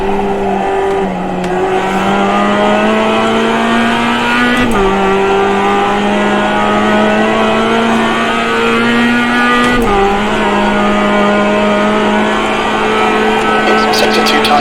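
An open-wheel GMX5 race car in the iRacing sim at Summit Point drones steadily close-up, its engine pitch climbing through the gears and dropping at two upshifts, with faint tire noise and a voice talking quietly underneath.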